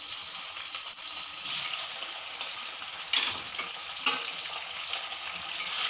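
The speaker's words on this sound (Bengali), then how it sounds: "প্রথমে আমি পনিরগুলো ভেজে নেব।" Paneer pieces frying in hot oil in a wok over a medium gas flame, cooked a few at a time: a steady, loud, close sizzle with occasional stirring scrapes and no talking.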